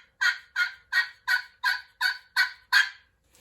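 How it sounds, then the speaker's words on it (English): A run of eight soft turkey yelps, evenly spaced and rhythmic, clear and close with no other sound around them, calling as a hunter would from the edge of a field or woods. "Soft yelps are like killer when it comes to being out there on the edge of a field or in the woods calling that turkey"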